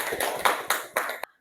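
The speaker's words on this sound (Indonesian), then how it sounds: "Berikan tepuk tangan yang meriah." Brief classroom applause after a group presentation, a short burst of hand claps with a few distinct accented claps, ending abruptly in silence.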